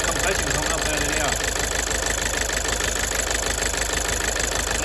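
A Toyota Avensis engine idles roughly with one injector disconnected, giving a steady, loud, uneven knocking churn that runs throughout with voices over it.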